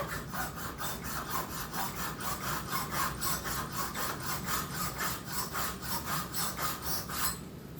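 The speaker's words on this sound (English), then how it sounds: "just file that down just a hair to get a smooth spot" Rhythmic rasping strokes of a file on a pocket bike engine part, about two per second, scraping steadily back and forth up close without any talking.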